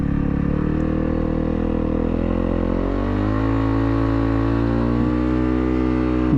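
A 2019 Yamaha WR250F dirt bike runs through a tight turn, its single-cylinder engine droning steadily and close, pitch dipping and rising as the throttle eases and picks back up, with no talk.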